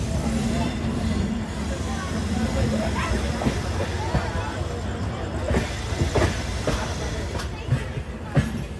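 An unreserved passenger train from Mangalore to Coimbatore pulls away, with a steady low rumble of wheels on rails and rhythmic clacks over the track joints, heard from inside the carriage.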